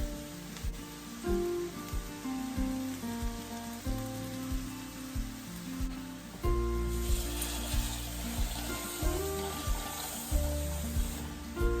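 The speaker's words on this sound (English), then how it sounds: "Mushrooms and onions are sautéed." Mushrooms and onions sauté in a pan with a soft hiss that grows louder in the second half, under background music.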